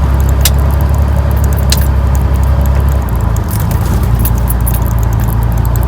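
A third-generation Cummins diesel truck engine with its turbo silencer ring removed rumbles steadily up close, the turbo's faint hissing whine rising over the drone, with a slight dip in the rumble partway through.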